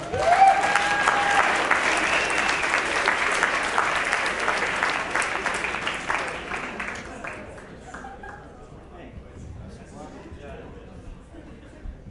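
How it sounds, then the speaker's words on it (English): An audience at a public speaking event applauds for a speaker, with steady, dense clapping that is loud at first and then thins and fades toward the end, with a voice talking over it. "A round of applause for Travis."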